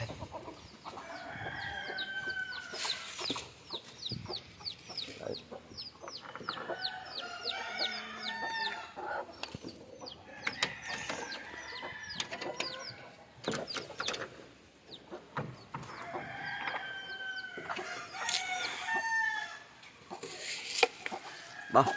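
Native country chickens cluck continuously at their coop in the morning, a busy chorus of close and overlapping calls with occasional louder squawks, and no talking.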